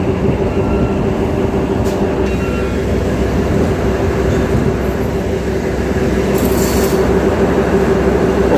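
A passenger train pulling out of Gajwel railway station, heard from inside a coach as a loud, steady rumble of wheels and running gear that continues without a break.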